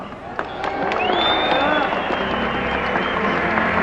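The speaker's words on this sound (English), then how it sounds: "a big cheer for Cam Fella" A racetrack crowd cheers and applauds for the racehorse Cam Fella in Toronto at his final race, a dense, sustained roar of clapping and shouts with a loud burst near the start, and a voice speaks over it.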